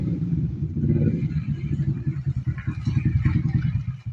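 A motorized tricycle's engine idles close by with a throbbing, uneven putter that turns into a choppy, pulsing chug toward the end, with no one talking over it.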